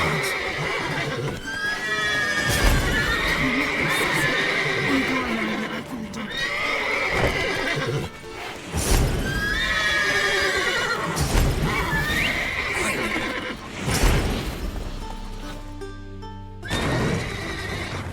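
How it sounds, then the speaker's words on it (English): Horses in The Witcher 3 neigh and whinny repeatedly, with loud, shrill calls and hooves clip-clopping beneath them, plus some game chatter and effects throughout. "Gotta call the horses before they wake the guards."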